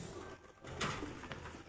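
A black magpie-robin (kacer wulung) sings in short bursts, with one brighter, sharper note standing out against a steady wash of background noise.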